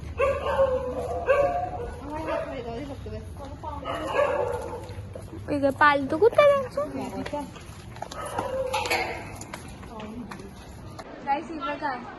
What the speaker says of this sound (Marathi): इथं बघा कुत्र्यांची भुंकण्याची सुरू आवाज